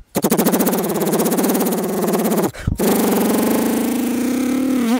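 A voice mimics a Bullet motorcycle with a rapid, loud thumping putter that runs steadily, pauses briefly for a breath, then resumes and rises slightly in pitch toward the end, close and alone.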